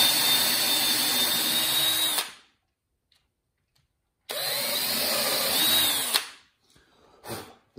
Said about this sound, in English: I'm going to drill it into through the walnut and into the pecan